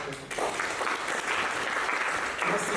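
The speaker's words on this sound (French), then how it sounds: "vous méritez des applaudissements" Applause from a university audience of students at an entrepreneurship event, dense steady clapping close by that carries on for the whole stretch without letting up.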